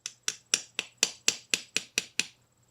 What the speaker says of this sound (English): So I'm just going to give it some light tappy taps.